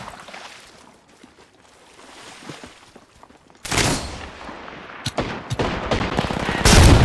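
Bursts of gunfire in the battle royale video game Apex Legends, scattered quieter shots early, then loud close volleys and sharp single cracks, dense and chaotic over a mixed game soundscape.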